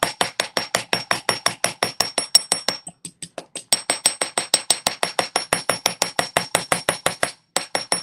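A hammer strikes a metal jewelry piece being flattened for a beaded necklace, with crisp, rapid, evenly spaced metallic taps in two long runs separated by a short pause.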